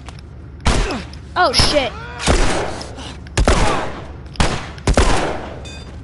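Gunfire in The Last of Us video game: several loud, sharp bursts of shots spread across a few seconds with brief pauses between them, while a player talks and curses over the action.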